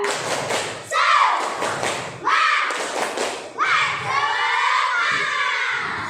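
A class of children performs the 'tepuk semangat' clapping chant, loud and close: rhythmic bursts of group claps and thumps alternate with energetic shouted chanting in several phrases across the clip.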